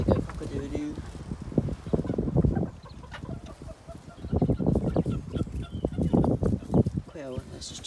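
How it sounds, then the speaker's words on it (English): A serama rooster crows amid clucking serama chickens, quail and other fowl, while people talk nearby over the bird calls. "There they go, cock-a-doo-doo."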